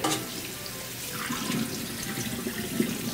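Tap water runs steadily into a sink while food is rinsed and scrubbed under it, a continuous close splashing wash with faint clatter and no talk.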